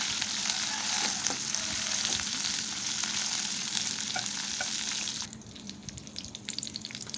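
Cut drumstick pieces being stir-fried in a pan, a strong continuous sizzle with scraping stirring clicks that drops sharply quieter near the end.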